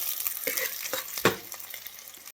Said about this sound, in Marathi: कांदा भाजतोय